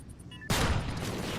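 A sniper rifle shot cracks once in an esports match of a first-person shooter game, a sudden loud report followed by a dense burst of continuing gunfire.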